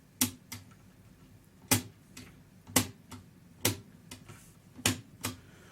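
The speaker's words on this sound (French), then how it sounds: "manipuler le clavier." Push-button keys on an old TSF valve radio being pressed one after another, six sharp mechanical clicks at an irregular, slow rhythm, close and clear over a quiet background.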